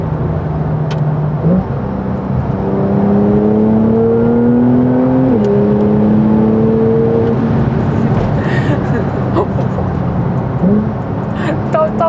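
A Porsche 911 Turbo engine of nearly 600 horsepower rising in pitch as it accelerates through gears, loud and close, with a steady roar and brief dips at each shift.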